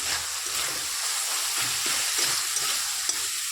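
Kochu loti (taro stolon) frying in a pan on a low gas flame, a steady close sizzle with soft rhythmic stirring scrapes throughout and no talk.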